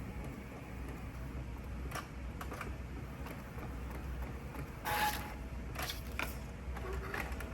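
A TL-X9 Lite sublimation phone case printer running its print job, with a quiet, even mechanical whir and faint ticking, plus a few brief louder clicks and rustles near the end.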